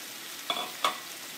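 Peas and vegetables with mushrooms frying in oil in a pan, a steady close sizzle with two brief louder bursts as ingredients hit the hot surface.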